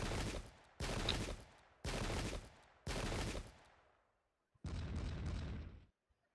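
Musket volleys from a Pike and Shot Campaigns battle: four long crackling bursts of massed gunfire roughly a second apart, a pause, then a fifth sustained rattling volley, loud and dense.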